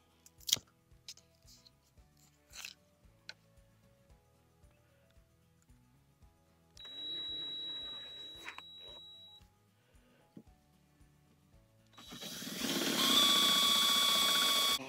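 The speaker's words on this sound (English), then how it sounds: "So let's drill this one right here." A power drill with a masonry bit whirs in two bursts, a shorter one and then a louder, sustained grind, between scattered light clicks and taps.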